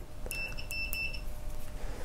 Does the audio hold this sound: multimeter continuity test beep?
yes